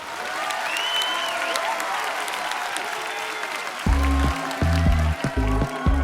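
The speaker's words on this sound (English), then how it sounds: "The village erupted into applause" A village crowd applauds in a long, dense burst of clapping at an animated bachata celebration, and rhythmic music comes in partway through.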